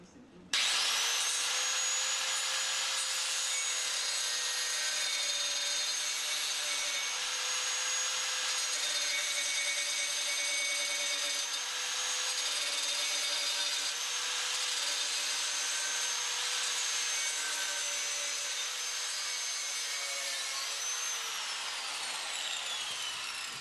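A power tool cuts sheet metal along marked lines to shape a garden trowel, producing one loud, continuous whining, grinding drone that holds steady for over twenty seconds before stopping.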